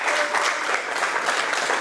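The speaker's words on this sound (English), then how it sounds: "Bob deserves really a tremendous round of applause" A crowd at a formal event gives a sustained round of applause, steady dense clapping that stays loud and even throughout with no gaps or talk.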